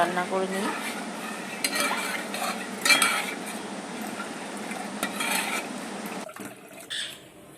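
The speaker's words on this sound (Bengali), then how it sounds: "আমল দুধের গুঁড়োটা আমি এই যে গরম জলে গুলিয়ে নিচ্ছি" Milk powder being stirred into hot water for payesh, with repeated spoon clinks and scraping against the vessel, some faint sizzling in the background and soft speech now and then.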